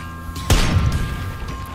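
A single deep boom from an explosion in Worms Revolution, hitting hard at once and trailing off into a rumbling decay over a faint steady tone.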